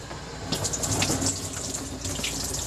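Tap water runs steadily over a tintype photographic plate during rinsing, a close, continuous splashing gush with slight shifts in flow.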